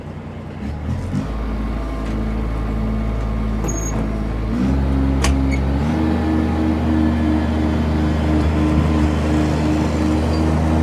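A 2014 Kubota ZD331P zero-turn mower turns over on its starter and its diesel engine catches, then settles into a loud, steady nearby idle with a low hum that holds for several seconds.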